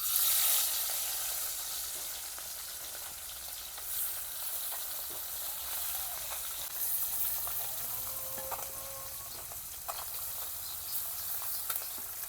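Small mixed river fish fry in hot oil in a pan, making a steady, fairly soft sizzle that runs for the full length, broken by occasional clinks and light stirring sounds.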